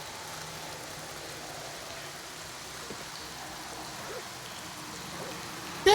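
Steady rain in a retro PSX-style ghost-hunting game forms an even, moderate hiss throughout, with a sudden sharp burst right at the end.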